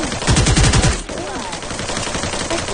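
Rapid bursts of automatic gunfire in a Thai-language shooter video game, loud and close for about a second, then fading into quieter game ambience with scattered faint shots; no one talks over it.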